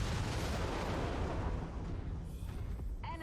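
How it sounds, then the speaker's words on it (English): An ammunition explosion in MechWarrior 5, heard as a dense, rumbling roar that fills the clip and slowly fades, with faint mechanical tones at the very end. "let's start off with an ammo explosion"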